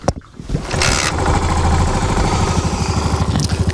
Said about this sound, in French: le démarrage au kick de la SR400 est vraiment une formalité